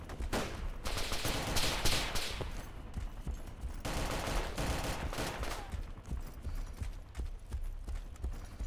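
Rapid bursts of gunfire crackle through a firefight in the video game DayZ Overpoch, with dense, loud volleys clustered in stretches and brief lulls between them, no voices over the shooting.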